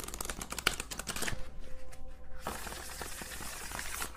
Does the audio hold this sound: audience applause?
no